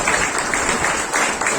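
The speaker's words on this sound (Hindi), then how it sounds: "क्यों ना जोर से ताली बजाते हैं इनके लिए," An audience at an evening conference session in Lucknow claps loudly and steadily. The applause is dense and continuous, swelling slightly toward the end, with no voices standing out.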